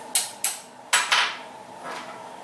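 A metal spoon clinks against a pumpkin pie spice jar, giving four sharp, close taps in quick, uneven succession followed by a softer rattle, with no talking.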